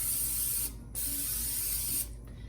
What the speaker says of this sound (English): I'm gonna spray it with a little bit of Pam so nothing is gonna stick.